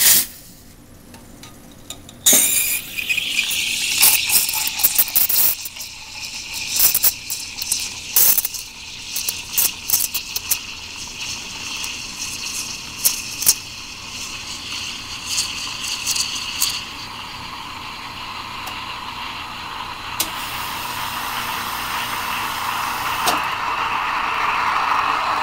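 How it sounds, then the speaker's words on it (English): A steam wand hisses steadily into milk for a latte-style steaming, a long stretch with intermittent clicks and rattles early on and a rising, brighter hiss toward the end. "steam my milk according to the latte milk steaming standard."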